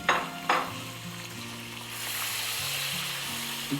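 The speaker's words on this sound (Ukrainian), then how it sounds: "висипем лівер, нехай смажиться" Lamb liver hits a hot pan with two sharp crackles, then settles into a steady, loud sizzle of frying, no talking.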